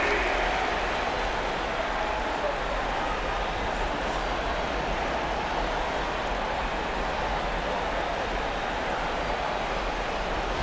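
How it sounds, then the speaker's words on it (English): A large crowd applauds and cheers steadily throughout, a dense continuous wash of clapping with no pauses, at a Knicks versus Pistons playoff basketball game in the video game NBA 2K25. "Give a big round of applause for your Pistons dance"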